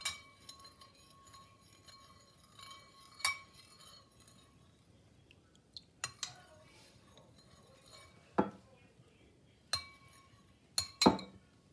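A spoon stirring vinegar into milk in a container for homemade glue gives sparse, faint clinks against the vessel, isolated taps spread across a quiet background, with a few sharper knocks toward the end.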